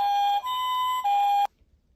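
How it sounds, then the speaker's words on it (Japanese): A cartoon ambulance siren in a children's animation sounds a loud two-tone hi-lo wail, three alternating notes close up, then cuts off abruptly into near silence. "救急車もやってきた。"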